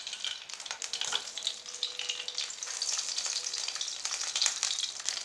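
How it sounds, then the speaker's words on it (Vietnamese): German sausages fry in hot oil with a steady, close sizzle and crackle, dotted with sharp pops and spits, running on continuously with no talking. "đậu bắp chiên nó nổ quá nên là mình sẽ chiên xúc xích"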